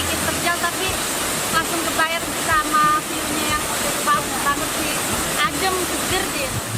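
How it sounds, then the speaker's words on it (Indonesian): Steady, loud rush of the Sedampah Indah waterfall fills the whole stretch as a dense, unbroken roar, with voices talking faintly over the falling water. "Sekarang lagi di air terjun Pokon Sedampah Indah ya."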